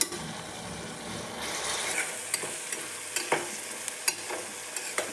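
Tomato, onion and spices fry and get stirred in a pan, a steady soft sizzle broken by repeated scraping strokes of a spoon, close and alone with no talking.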